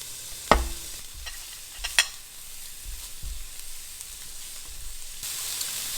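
Onions frying in a pan while being stirred around, a soft steady sizzle underneath sharp spatula scrapes and knocks at irregular intervals, close and without any talking.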